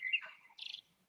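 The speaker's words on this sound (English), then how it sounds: "we can hear beautiful birds singing" A single bird sings a short, bright phrase: a whistled note sliding down, then a quick trilling chirp. It sounds fairly faint and stands alone.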